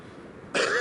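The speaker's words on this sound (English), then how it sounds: "Still coughing." One short, sharp cough bursts out suddenly after a quiet moment, close and fairly loud, with no other voices.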